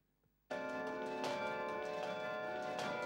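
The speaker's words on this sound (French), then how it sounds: "C'est bien le son du carillon qui résonne dans les montagnes" Church tower carillon bells in Samoëns ring out suddenly after a quiet moment, several tones struck and sustained together, resonant and fairly loud, resounding in the mountains, with fresh strikes about every second.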